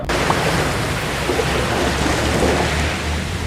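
Ocean waves surging as a loud, continuous roar of surf, broadband and unbroken throughout, heard alone without voices.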